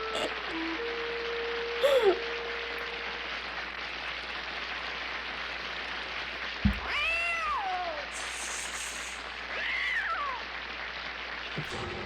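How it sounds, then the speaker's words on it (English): An animated cat meows in a few drawn-out, rising and falling calls spaced over several seconds, heard over a steady hiss of rain with a brief tonal whistle near the start and no talking. "It was a cute cat, it was friendly, and you don't kill him."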